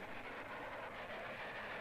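A train approaches in a Filipino action film, heard as a faint, steady rumbling hiss of wheels and carriages with no voices over it.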